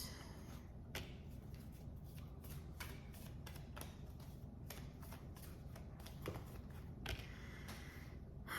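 Tarot cards are shuffled by hand close up, a run of soft riffling flutters and crisp card slaps repeating at an uneven rhythm with no talking.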